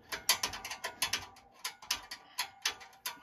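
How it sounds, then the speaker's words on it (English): A wrench ratcheting on a 5/16 bolt head during an arcade cabinet restoration, giving a close, crisp run of clicking pawl strokes in uneven bursts with short pauses between them, with no talking. "So let me go grab a wrench for that. Okay, it's just a 5/16 bolt"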